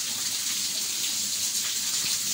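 Rainwater from a house roof pours down a drainpipe into a gutter drain, a steady loud continuous splashing rush with no talking.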